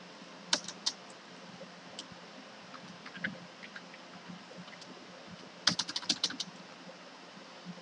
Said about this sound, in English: I'm going to type in script.